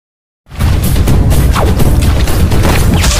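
A dense burst of loud, rapid pistol gunshots and crashing impacts in a film scene erupts after a brief silence and continues without pause.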